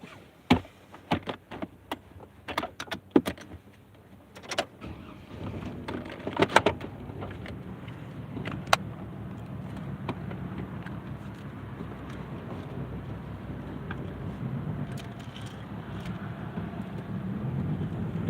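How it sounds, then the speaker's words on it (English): A conversion camper van being started, followed by its engine settling into a steady, continuous idle, with a few sharp clunks and knocks early on before the running engine takes over. "I'm sorry, I have to start this car."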